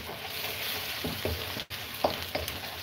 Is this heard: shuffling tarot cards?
no